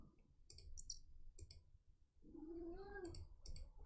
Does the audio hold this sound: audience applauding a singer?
no